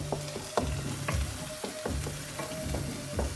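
Tomato puree stirred into a sizzling pan of vegan achari tikka, a steady fry hiss with repeated spoon scrapes and soft thumps against the pan, close and alone.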